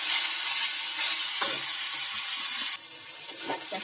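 Lentils fry with jute leaves in a pan, giving a loud, continuous close-up sizzle broken by scraping stirs and a few spoon knocks.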